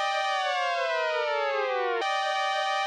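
Tape stop spin-down effect from a free VST plugin: a sustained harmonic tone slides steadily downward in pitch for about two seconds, then snaps back up to its original pitch and holds, clean and up front, with no voices.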